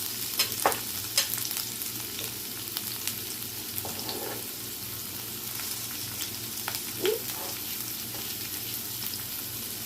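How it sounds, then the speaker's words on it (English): Onions frying in a pan for breakfast home fries, a steady broadband sizzle with occasional stirring scrapes and small clatters, close and moderately loud, no talking. "we're going to add our onions"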